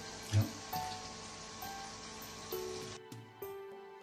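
Pork for dinuguan sizzles and crackles in hot oil, a steady frying hiss with a few louder pops, close by, before the sound cuts away near the end.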